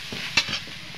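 A wooden spoon scrapes and stirs onion, garlic, ginger, chilli and cumin-coriander paste in a hot pan, with soft sizzling and one sharper scrape midway, close and fairly quiet.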